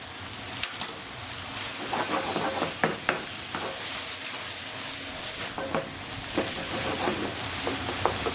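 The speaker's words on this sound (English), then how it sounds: "So we just want to keep on cooking until our lamb has browned." Minced lamb frying and browning in a pan with salt, pepper and crushed garlic, a steady close sizzle broken by scattered clicks and scrapes of stirring, no voices.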